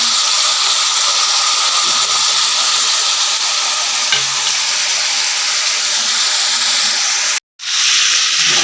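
Chicken pieces fry in a pan for a Nepali-style chicken fry, giving a steady, loud hiss and sizzle that holds throughout, with no talking and a brief cut near the end.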